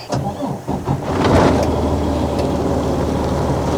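A truck engine cranks and catches during a safe start with the brakes set and the transmission in neutral, then settles into a loud steady idle.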